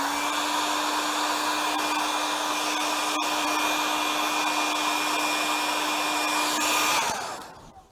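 A hair dryer drying wet watercolour paint hums with a loud, steady whine close by for about seven seconds, then switches off and fades away at the end.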